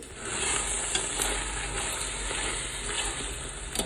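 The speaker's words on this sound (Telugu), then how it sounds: "ఎక్కడా కూడా అడుగంటకుండా కలుపుకుంటూనే ఉండాలి." Chicken biryani masala for Dindigul thalappakatti biryani being stirred in a pot, with a continuous close sizzle and repeated scraping strokes across the bottom, loud and steady without speech.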